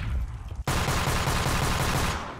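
Weapon firing in the video game Garry's Mod: a sharp blast followed by a dense, rapid burst of shots that runs on for a couple of seconds, loud and close.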